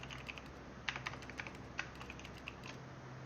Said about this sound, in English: I like the sound that it's like a typewriter.